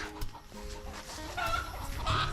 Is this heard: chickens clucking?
yes